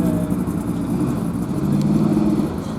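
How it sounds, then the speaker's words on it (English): A DKW 1000 SP car's two-stroke engine idles steadily with a buzzing, uneven rattle, close by and continuous, with no talking over it. "And you can listen to the two-stroke engine."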